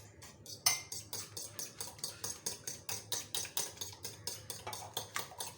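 Omelette eggs with spices like red chili powder being whisked in a bowl, a fast, steady series of light clinking utensil strikes against the dish, close and fairly quiet with no talking.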